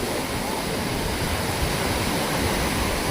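Sea waves break on the shore at Kala Pathar beach on Havelock, producing a steady, dense roar of surf that stays loud and unbroken throughout, with no voices.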